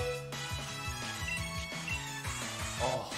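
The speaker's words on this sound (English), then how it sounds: "Oh, the constant ringing." A constant ringing tone in Pokemon Shield, made of repeating rhythmic pulses with a bright electronic melody over them, holding steady the whole time.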